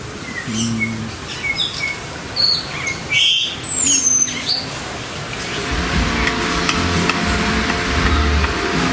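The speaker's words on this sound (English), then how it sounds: "We're in America and they're birds, so it's American birds." Birds chirp and call in short, high bursts at Animal Kingdom in Walt Disney World, fairly near, over steady outdoor ambience that swells into a denser background hum toward the end.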